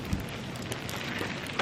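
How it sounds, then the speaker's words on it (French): Fine small hail, mixed with snow, patters steadily on surfaces outdoors, a dense continuous crackling hiss with a few sharper ticks, close and even throughout. "il grésille en fait. C'est de la mini grêle qui me tombe dessus."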